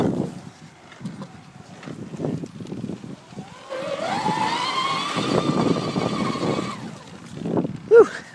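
An Optibike R11 electric bike motor spins up under throttle with a rising whine that holds steady for a few seconds over road rumble and wind, then drops away.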